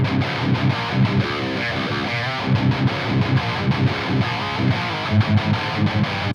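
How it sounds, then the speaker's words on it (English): Heavy metal electric guitar driven through a Toneforge Jeff Loomis overdrive, thick saturated distorted riffing with chugging palm-muted rhythms and sustained chords, loud and continuous with no voices. "let's just check out how it saturates the sound."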